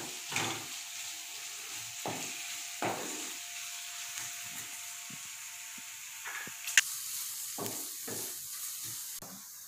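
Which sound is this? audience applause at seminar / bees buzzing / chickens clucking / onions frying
onions frying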